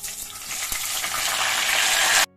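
Green chillies hitting hot oil with black mustard seeds, nigella and asafoetida, a loud, close, rising sizzle that builds over two seconds and then cuts off abruptly, without speech.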